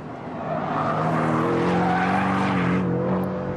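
A Porsche Cayman with a non-turbo engine pulling hard while driving, a loud sustained engine note rising steadily in pitch as it accelerates, with some tire noise underneath.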